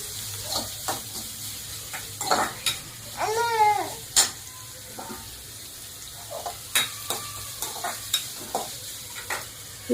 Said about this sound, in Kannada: ಅದು ಬೆಳ್ಳುಳ್ಳಿ ಚೆನ್ನಾಗಿ ಫ್ರೈ ಆಗಬೇಕು ಎಣ್ಣೆಯಲ್ಲಿ.